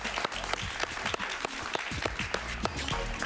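A studio audience applauds steadily for a guest on a Spanish-language television interview show, a dense, continuous clapping with sharp individual claps standing out close by.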